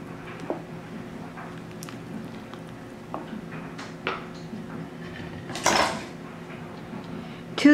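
Seasoned beef stew being mixed in a pot with salt and pepper, a spoon clinking and scraping against the pot in a few scattered knocks, with one louder scrape near the end, fairly quiet overall.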